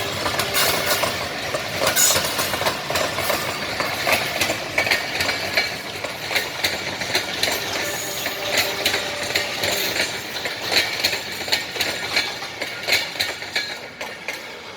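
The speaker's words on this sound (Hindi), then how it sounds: "ये जाफर एक्सप्रेस ट्रेन है और ये जाफर एक्सप्रेस जो है पेशावर जाएगी" The Jaffar Express passenger train, bound for Peshawar, rumbles steadily past with a continuous rattling, clattering roar, fairly close and without voices.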